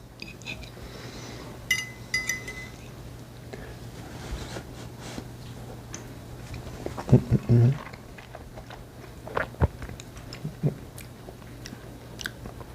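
Close, quiet chewing and biting of soft sourdough discard tortillas with hot melted cheese, irregular mouth sounds and a few louder bites over a faint steady hum, with brief whispery sounds.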